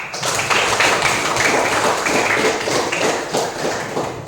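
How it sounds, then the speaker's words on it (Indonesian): An audience breaks into sustained applause at a talk on building resilience, a steady wash of many hands clapping together at full volume for several seconds. "Tepuk tangan."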